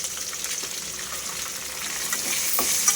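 Onion dropped into hot tempering oil, sizzling loudly and continuously up close with light stirring, rising slightly toward the end.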